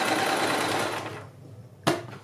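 Sewing machine stitching a kurti slit with a lining, running steadily and loudly for about a second, then stopping, followed by a brief sharp clack.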